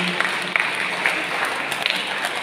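Church congregation clapping for parents during a feast-day Mass festival, a steady wash of applause held at an even level for the whole stretch, with a few sharper claps poking through.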